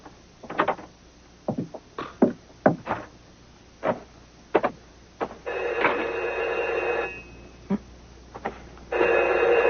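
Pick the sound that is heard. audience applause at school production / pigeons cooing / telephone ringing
telephone ringing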